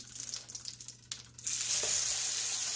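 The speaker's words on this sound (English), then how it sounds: "And you want that sizzle." Loud, steady sizzling erupts after a few soft clinks, then continues as a bright, crackling fry as steaks are laid into butter in a hot pan.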